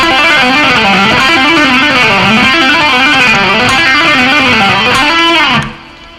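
A loud, distorted electric guitar rips through a fast legato lick, a single picked C then rapid hammer-ons, pull-offs and first-finger slides in wavy, rolling runs for several seconds before the sound cuts to a ringing decay.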